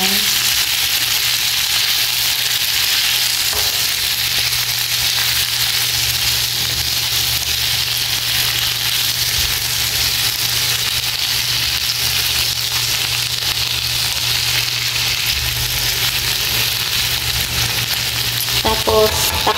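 Shrimp fry in a pan with a loud, continuous sizzle close by while being stirred, and a few utensil clatters break through near the end.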